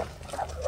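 A brief, close snarl or bark from a wolf in the survival video game The Long Dark, a single short vocal burst with no talking.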